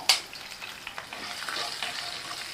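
Green and dried red chillies sizzle in hot oil in a pan while being stirred for tomato rice, a steady close frying hiss with a sharp utensil scrape at the start and soft stirring scrapes throughout.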